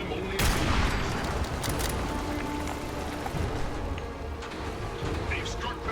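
Cannon and gunfire in Fallout 4, as a crew aboard the U.S.S. Constitution fires on attacking scavengers: a dense, continuous barrage of overlapping loud blasts and rattling shots that fills the whole stretch, with a brief spoken word in the mix.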